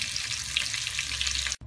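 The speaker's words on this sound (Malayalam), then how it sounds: "ഇങ്ങനെ മുഴുവൻ ചിക്കനും നമുക്ക് വറുത്ത് പോരാം" Chicken pieces sizzle and crackle steadily in hot oil with curry leaves, a dense close-up frying hiss that cuts off abruptly near the end.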